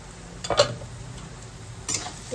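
Vegetables in an uncovered pan sizzle quietly while a utensil scrapes through them in two short bursts of stirring, close up and with no talking.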